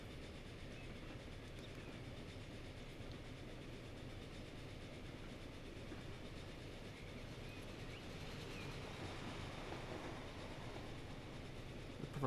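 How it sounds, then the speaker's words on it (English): A train in the railway simulation game Transport Fever passes on a branch line with a steady rumble and clickety-clack of wagons, faint and continuous, swelling slightly toward the end, with no talking. "Another train just coming up."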